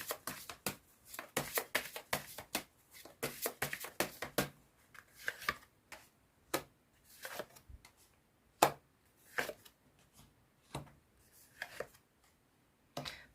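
A deck of advice oracle cards is shuffled by hand during a card reading, making a long run of quick, crisp riffling slaps and taps, close and fairly quiet, with no talking.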